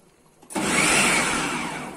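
A food processor chopping onions for a waakye stew starts abruptly after a quiet moment, then runs as a loud, steady, close whirring buzz with no talking over it.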